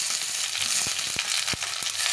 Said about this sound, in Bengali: এটাকে ভালো করে ভেজে নিব।